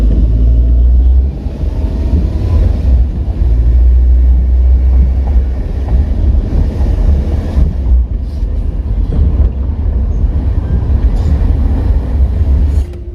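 A car drives up First Avenue through the streets of Hillsborough, Carriacou, making a loud, steady engine and road rumble that holds throughout with slight dips.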